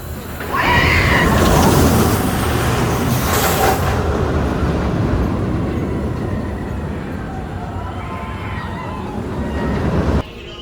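A roller coaster launches at Knott's Berry Farm on opening day, with a loud rushing rumble that surges hard, then gradually eases and fades as the ride speeds away, ending abruptly.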